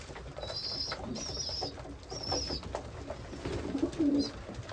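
Pigeons coo in a few repeated low bursts, with scattered chirps and light movement around them, fairly close and without any talking.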